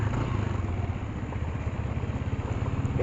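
A Yamaha NMAX scooter engine putters at a low, steady idle, close by and fairly quiet, its even pulsing beat holding throughout without any talking.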